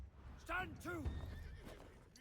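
A horse in Conqueror's Blade lets out two loud, clear whinnies in quick succession with hoof clip-clops, while a voice talks nearby.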